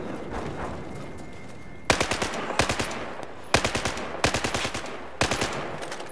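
Rapid automatic gunfire from a high fire rate SSgt rifle in Battlefield 4, in five sharp loud bursts of several shots each, preceded by quieter background game ambience, no voices.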